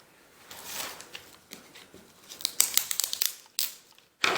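A knife slices through tape on a parcel box containing WW1 and WW2 militaria, giving short scratchy cuts, crinkles and tearing sounds close up in quiet surroundings.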